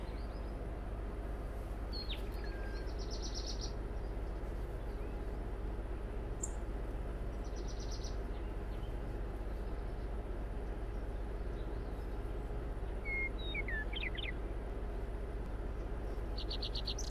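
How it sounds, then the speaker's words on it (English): Bird calls played from a computer program, sparse high chirps and short trills scattered over a steady low hum, faint and intermittent. "that's where the bird sounds are coming from right now, is that program"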